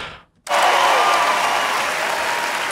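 A huge comedy show audience bursts into loud, sustained applause and cheering after a brief quiet moment, filling the venue steadily to the end.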